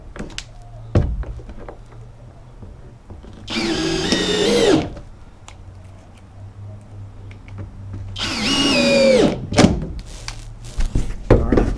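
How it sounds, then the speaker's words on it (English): A power drill drives screws into the curved wooden exterior sheathing of a vintage-style camper. It makes two separate whining bursts of a few seconds each, loud and close, with rising pitch and light knocks between them. "You want to make sure and use the shorter screws so it doesn't go all the way through"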